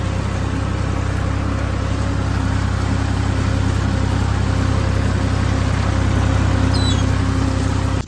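A farm tractor's engine runs at a steady idle, a loud, continuous low-pitched drone with a constant mechanical throb. It lasts throughout without pauses, and no one talks.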